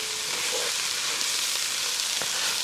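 Continuous broadband sizzle of flour being stirred constantly in a hot pot for braised beef short ribs, steady and close with a faint scrape or two, no voices.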